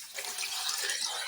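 About three glasses of water poured into a cooking pot with beef trotters for paya, a steady rushing splash at low level throughout.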